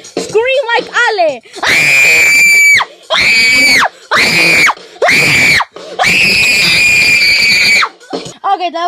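A voice sings a short song made of loud, sustained screams, several long shrieking bursts with brief gaps between them, joined by some squealing vocal sounds at the start and end.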